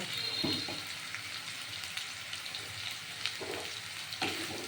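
Potatoes and onions frying in a pan give a soft, continuous sizzle at low level, broken by a few faint clicks and stirring taps.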